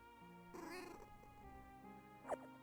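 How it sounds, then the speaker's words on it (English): A cat meows in a video game, a drawn-out meow followed by a shorter, sharper cry, fairly quiet over a steady background tone, with no talking. "Feed our cat."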